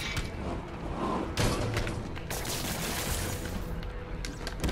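Dense, continuous indoor gunfire in the Spider-Man video game, with rapid overlapping bursts and thuds that stay loud and close throughout.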